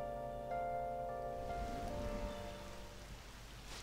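Steady soft rain falls in the Persona 5 video game, a constant broadband patter with light music tones layered over it, moderately quiet and continuous throughout.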